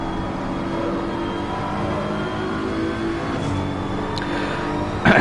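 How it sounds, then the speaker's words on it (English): GT race cars, a Bentley and a BMW, race at Donington Park in Assetto Corsa Competizione. The engines whine and rev loudly and continuously as the throttle rises and falls, with no talk. "If you listen to the engine note, you can actually envisage what Rob's doing."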